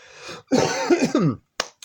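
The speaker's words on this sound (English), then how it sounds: "Excuse me for coughing." A close, throaty cough and gravelly throat clearing from one person, followed by a brief short cough after a pause.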